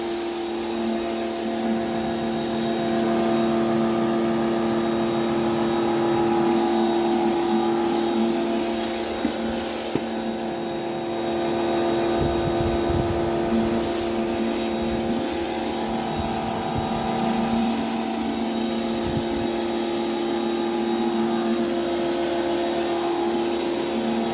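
A Stanley SXPW24bx pressure washer runs with a spinning floor-cleaning nozzle, giving a steady, loud hiss and drone of spraying water and motor hum throughout, with a few brief dips and scrapes.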